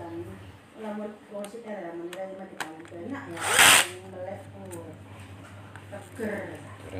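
A power drill or electric driver runs steadily as bolts are tightened one by one during an electric fan repair, with a louder whirring burst midway over a constant low hum.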